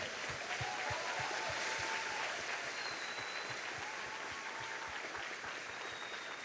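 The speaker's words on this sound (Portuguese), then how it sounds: "Vamos dar uma salva de palmas ao Senhor?" A church congregation at a thanksgiving service breaks into sustained applause, a dense even wash of clapping from a large crowd throughout.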